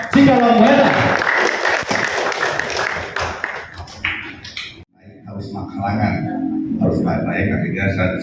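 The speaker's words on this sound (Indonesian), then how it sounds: "Berikan tepuk tangan terbaik untuk Camat Cikalongwetan." Audience applause for a district head at a regional small-business digital product exhibition and applied-arts workshop, sustained clapping through the first seconds mixed with a loud voice over a PA, then softer crowd noise and talk after a brief pause.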